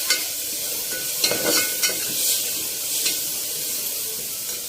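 Red chili powder fries in a pan for a quick pulao, a soft steady sizzle with a few sharp stirring scrapes and clinks of a spoon against the pan, close and fairly quiet.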